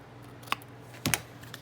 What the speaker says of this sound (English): So I'm going to just trim a little bit of it off